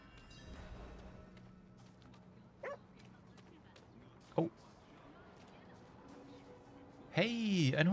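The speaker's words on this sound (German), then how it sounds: "Hey, ein Hundi." A dog in the Diablo IV game world barks a few times, short sharp yips at about two and a half and four and a half seconds, over ambient game sound, followed by a louder whining, whimpering cry near the end.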